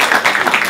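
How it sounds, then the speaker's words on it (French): A university audience applauds a fourth-year aerospace student called up at an inaugural conference, producing a brief, loud wash of many hands clapping. "Il faut l'applaudir."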